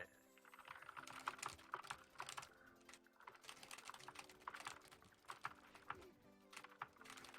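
Computer keyboard keys clatter softly and continuously while someone plays Grand Chase. Quick, irregular keystrokes with small bursts of rapid presses are heard close by at low volume, with no talking.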